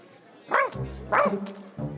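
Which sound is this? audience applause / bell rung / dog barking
dog barking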